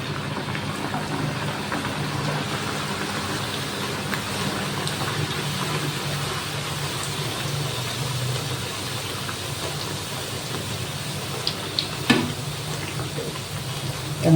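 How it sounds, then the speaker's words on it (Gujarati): Spinach and beet puri dough deep-fries in very hot oil, making a dense, steady sizzle and crackle that runs evenly throughout, with a few sharper pops near the end. "તો આપણે પૂરીઓને તળી લઈએ."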